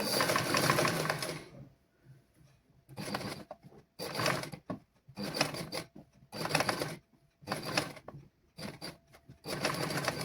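A sewing machine stitches fabric during a basic tailoring lesson, running in a long burst and then in several short bursts separated by pauses.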